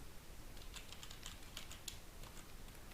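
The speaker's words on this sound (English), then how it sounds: "Hopefully I typed that correctly." Soft, quick taps of a computer keyboard come in a short, light burst of keystrokes under a steady background hiss, quiet and close.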